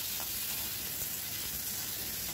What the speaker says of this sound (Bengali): দিয়ে একটু পেঁয়াজটা ভাজা ভাজা করব